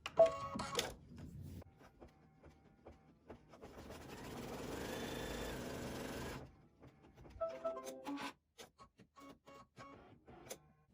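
A sewing machine tacks down a fabric heart appliqué, running in one steady stitching burst of about three seconds between quiet clicks and handling noises.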